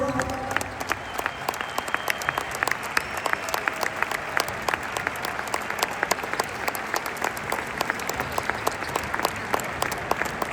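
A large arena crowd applauds at İbrahim Kutluay's basketball jersey retirement ceremony in the Ülker Sports and Arena hall, with sustained, dense, loud clapping that continues evenly throughout.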